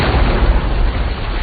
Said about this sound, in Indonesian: Fitzroy akan mengorbankan dirinya dengan meledakkan granat di tangannya